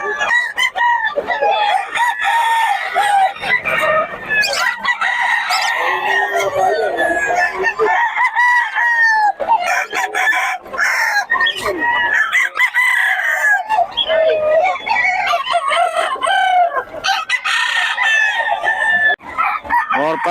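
Many chickens and roosters in Bocaue crow and cluck close by in a dense, continuous chorus, with overlapping crows rising above busy clucking throughout.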